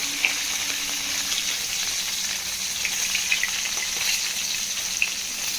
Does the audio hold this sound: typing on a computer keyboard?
no